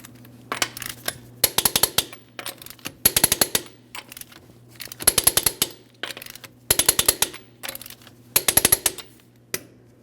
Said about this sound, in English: We're going to torque these to 140 foot-pounds in a crisscross manner.